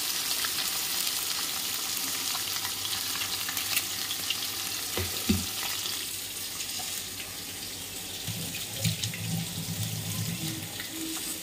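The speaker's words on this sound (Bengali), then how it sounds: "মাছটা ততক্ষণ গ্যাসটা মিডিয়াম করে দিয়েছি, ভালো করে ভাজা হতে থাক।" Rohu fish fries in oil over a medium gas flame, a steady soft sizzle heard nearby with occasional clinks and a brief run of water partway through.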